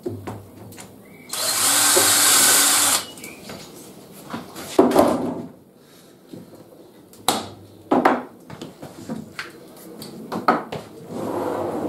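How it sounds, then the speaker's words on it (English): A drill press bores into wood, its motor whining loudly for about a second and a half, followed by scattered knocks and clunks of handling the workpiece and the bench. "drill that out on the drill press"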